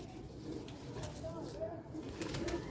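Black-faced Sialkoti pigeons coo softly and close by, a few short throaty calls over a faint background murmur.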